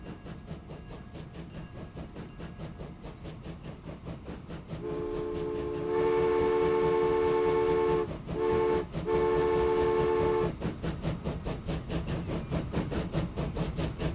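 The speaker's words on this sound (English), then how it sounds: "We can finally see the complete train on the completed line." Train in the Transport Fever 2 video game running on a rail line, a steady rumbling run joined by a long sustained horn blast, broken by two short gaps, before the rolling noise carries on alone.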